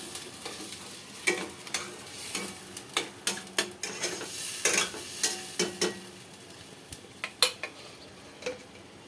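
Onion, tomato, garlic, curry leaves and coconut roast in a pan over a low flame, with a quiet sizzle under frequent sharp clacks and scrapes of a stirring utensil against the pan.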